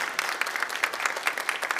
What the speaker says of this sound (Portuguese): Você que está em casa também, pode aplaudir essa palavra.